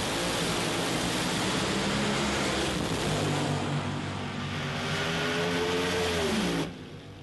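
A 2,000-horsepower nitro-burning funny car engine roars at full volume in a continuous harsh blast, its pitch sweeping before the sound cuts away near the end.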